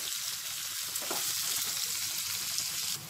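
Onion pieces and curry leaves frying in oil for misal pav, a continuous close hiss and crackle with soft utensil movements, steady throughout with no voices.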